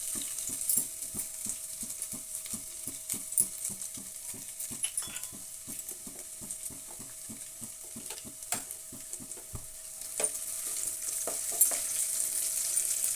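Garlic and ginger frying in a pan while being stirred, a steady close sizzle broken by regular scraping strokes of a spatula, with a few sharper clinks near the end.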